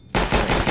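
Rapid bursts of automatic gunfire in Counter-Strike: Global Offensive erupt after a brief quiet start, loud and close, with several quick rattling volleys running back to back.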